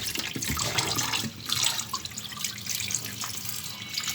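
Beef is rinsed under a running kitchen tap for a clay-pot beef dish, with a continuous close rush and splash of water into the sink and small shifts as the meat is turned.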